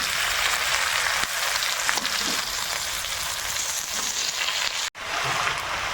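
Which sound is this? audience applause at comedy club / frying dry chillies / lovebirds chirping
frying dry chillies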